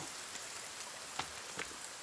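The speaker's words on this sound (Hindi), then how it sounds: "बारिश हो रही है" Steady rain falls in a forest, a dense even hiss with a couple of sharper drop patters standing out close by.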